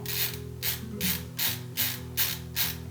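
An M3 x 10 screw is driven into the X carriage back of a Prusa MK4 printer, with a rhythmic series of about seven ratcheting, whirring pulses close by over a steady mechanical hum.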